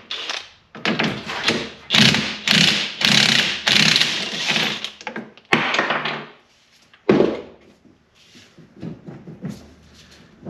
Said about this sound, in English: Let me grab a socket and see if we can't straighten that wheel out.